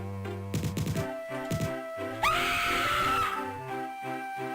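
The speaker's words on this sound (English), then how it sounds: "that scream sound" A shrill, piercing scream cuts through the chiptune-style background music of the Power Pete video game on a classic Mac, one sharp cry that trails off over the looping melody.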